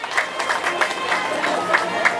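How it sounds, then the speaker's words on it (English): Outdoor crowd at a Fourth of July parade claps and cheers for passing Cub Scouts, a dense, steady patter of applause spread over a broad area with scattered whoops. "Let's give all of our Cub Scouts and Boy Scouts a big round of applause"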